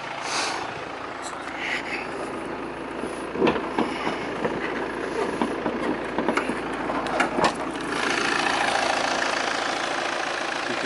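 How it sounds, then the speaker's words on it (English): Volvo V70 2.0 D4 diesel estate idling with the bonnet open, a steady low engine hum under light background noise, with a few brief clicks and knocks. "I'll show you the engine bay"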